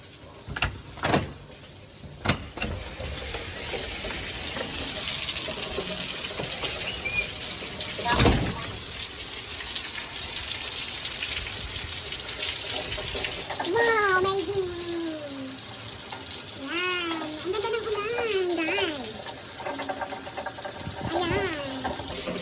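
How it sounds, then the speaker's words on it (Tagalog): Steady broadband hiss of rain pouring throughout, with a few knocks early on and people talking faintly underneath in the latter half. "It's raining."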